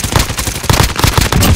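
Rapid loud bursts of automatic gunfire in Call of Duty Warzone on Rebirth Island, a dense rattling volley of closely spaced shots filling the whole moment.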